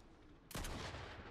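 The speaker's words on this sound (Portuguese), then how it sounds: "Tô levando um tiro, velho." Gunfire in the Fortnite video game hits the player: a sudden loud burst of rapid shots erupts after a quiet moment and then keeps rattling, close and harsh.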